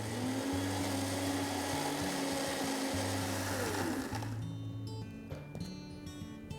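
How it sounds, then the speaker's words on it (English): A mixer grinder whirs loudly as it grinds a chutney paste with curd and salt, its motor drone holding steady and pitching slightly before cutting off, followed by a few faint clinks and rattles. "Let's grind this into a smooth paste."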